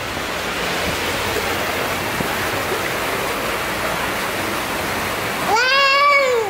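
Fountain water splashes steadily as a broad, continuous rushing wash at moderate level, with a brief harmonic vocal sound near the end.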